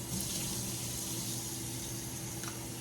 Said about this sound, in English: So I'm gonna add some cold water